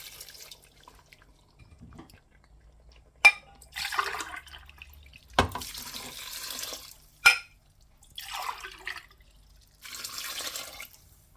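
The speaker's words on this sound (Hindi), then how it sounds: "3 कप पानी के डाल देंगे।" Water is poured in several separate splashing bursts into a pressure cooker holding spiced meat and lentils for shami kebab, each pour loud and close, with short quiet gaps in between.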